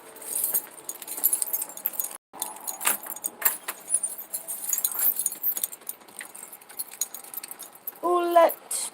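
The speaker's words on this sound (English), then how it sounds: "I gotta grab my keys" Keys jangle in short bursts as they are grabbed off a surface indoors, with a voice talking nearby and a brief bright metallic rattle near the end.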